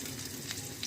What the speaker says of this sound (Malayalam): അപ്പോൾ നമുക്ക് പുളിശ്ശേരിക്ക് കടുക് വെക്കാം.